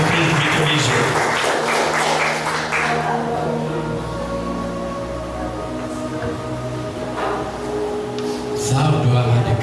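Church congregation applauding for Jesus, a dense burst of clapping that fades after a few seconds into sustained organ or keyboard tones with scattered claps and voices.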